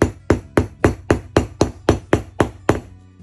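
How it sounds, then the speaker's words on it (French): A hammer delivers ten evenly spaced sharp taps on a setting tool, fixing a snap fastener into leather, each strike loud and close with a short ringing decay, then stops. "Et venez frapper avec de petites frappes successives."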